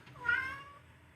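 A single cat meows once, a short rising-and-falling call that swells and fades over about a second, faint and somewhat distant in an otherwise quiet room.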